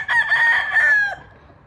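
A young gamefowl stag with a black plumage crows once, a loud close cock-a-doodle-doo lasting about a second, fading into quiet background afterward.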